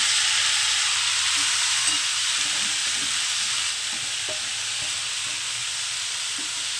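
Spinach sizzles in a pan with fried garlic, a loud continuous hiss that eases a little partway through, with faint stirring clicks and no voices.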